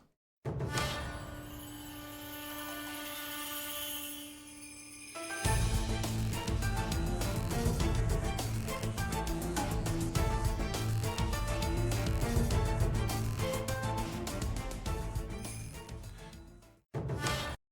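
The opening song of an A Link to the Past Randomizer MSU pack plays alone as dense, continuous music for about sixteen seconds, a quieter sustained intro giving way to a fuller, louder section before stopping abruptly.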